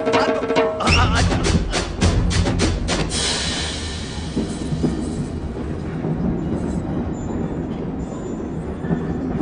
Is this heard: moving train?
yes